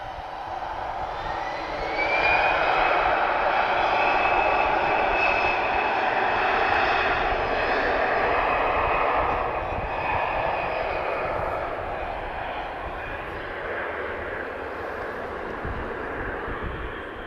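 An Airbus A320-214 airliner departs Lisbon Airport for Vienna, a steady jet engine roar with a high whine building and holding, then slowly fading at moderate distance, with some faint talk.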